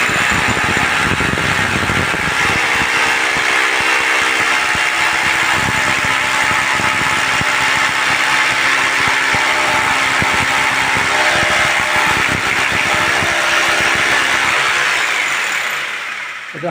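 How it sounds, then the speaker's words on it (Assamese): A hammer drill bores a hole into a wall for mounting a fan, producing a continuous loud, gritty rattling roar close up that runs steadily and cuts off at the end. "এটা ড্ৰিল মেচিনেৰে ড্ৰিল কৰিব"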